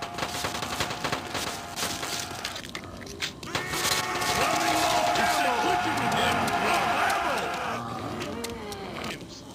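Rapid bursts of gunfire in the Call of Duty zombies game mode, loud and clustered, with talk in the clip.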